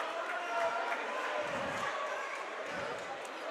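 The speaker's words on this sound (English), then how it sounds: "Good travel crowd from Archbishop Ryan to our right." Travelling Archbishop Ryan fans in a high school basketball gym, a steady crowd murmur with ball bounces and squeaks, a commentator talking over it.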